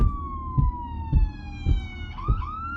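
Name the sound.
police siren rising in the distance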